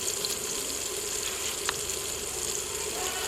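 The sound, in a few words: tomato paste frying in a pan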